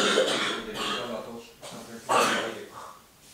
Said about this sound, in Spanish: tosiendo por las mañanas